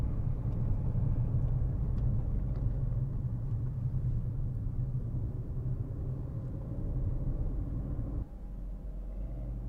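A car rumbles continuously at close range while driving over rumble strips on a Brands Hatch parade lap, with a heavy low drone and a slight drop in level near the end.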